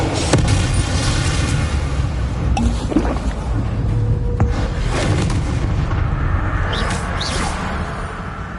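Bombarda and Confringo spell explosions in the Hogwarts Legacy video game: dense, loud booming blasts and whooshes layered continuously, with sharp cracks and magical zaps breaking through.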